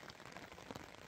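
Steady rain patters on surfaces during a winter pike fishing session outdoors, a soft, even hiss with scattered drop taps and no voices.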